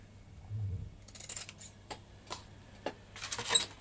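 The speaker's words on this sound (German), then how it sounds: "So, jetzt wollen wir nochmal eben die Schere. Wir schnibbeln das ab." Scissors snip off the excess woven fabric from a glued F3K glider wing surface, giving a few sharp, quiet clicks and short cuts spread over a few seconds in a quiet room.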